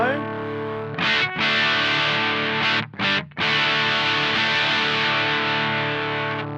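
With the expression pedal backed off, an electric guitar through a Supro Drive pedal sounds slightly less gritty, strumming sustained chords with a couple of brief breaks, loud and up close.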